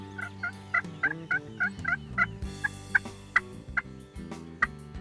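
Rio Grande wild turkeys gobble repeatedly from across a creek on a Texas ranch, a series of rattling gobbles in quick succession, moderately distant over a low steady background hum.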